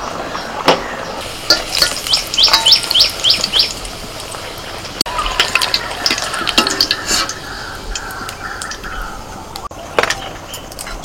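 Coriander-leaf kachuri frying in a pan of oil give a steady nearby sizzle with scattered crackles, light clinks and a few sharp taps.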